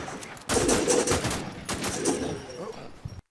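Rapid bursts of video game gunfire crackle in two loud volleys, with a few scattered shots trailing off before sudden silence.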